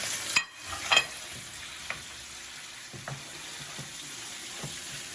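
Sliced pork tenderloin hits a smoking-hot pan and sizzles, with a few sharp clatters at the start as the meat goes in, then a steady close frying hiss with occasional small knocks.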